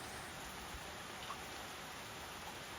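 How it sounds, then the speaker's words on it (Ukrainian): Steady rain falls outdoors on a rural day, a faint, even hiss with no distinct drops or voices. "І це ще він не дуже великий, цей дощ, тому що він був набагато більше."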